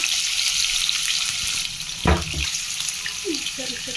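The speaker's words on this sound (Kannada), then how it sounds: "ಸ್ವಲ್ಪ ಇದಾದ ತಕ್ಷಣ ಪನ್ನೀರ್ ಹಾಕೊಂಡು ಸ್ವಲ್ಪ ಫ್ರೈ ಮಾಡ್ಕೊಳ್ಳೋಣ." Paneer fries in oil in a kadai with a steady, bright sizzle throughout, interrupted by a brief louder clatter partway through as the pieces are stirred or moved, with no talk.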